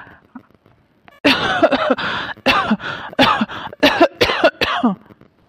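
A cartoon character coughs in a series of loud, close, harsh bursts, about eight fits in quick succession after a faint opening moment.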